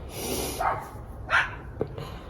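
Dogs being taken for a walk bark in short, separate bursts, three clear barks and yips close by over a low background hum, with no speech.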